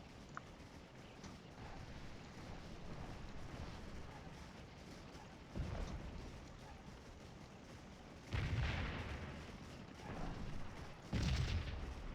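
Artillery cannons firing round shot in the Civil War game Scourge of War, heard as a few deep booms separated by several seconds, each rolling out over a steady low rumble of battlefield ambience.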